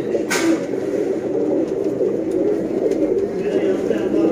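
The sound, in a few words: pigeons cooing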